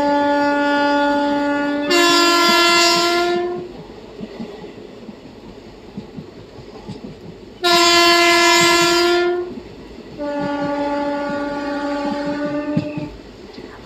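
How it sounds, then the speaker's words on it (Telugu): A WAP-4 electric locomotive's horn sounds on a rainy Macherla to Nadikude train journey: three long, loud blasts with pauses between them, over a steady rumble of the moving train. "హాంకింగ్ అయితే అదర కొడుతున్నారండి నిజంగా లోకో పైలట్ గారు అయితే"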